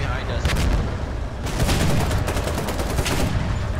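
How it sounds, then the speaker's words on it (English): Gunfire in the Foxhole war game, a dense run of overlapping shots and booms held at a loud, steady level, with players talking over it. "There's a shot right to our right."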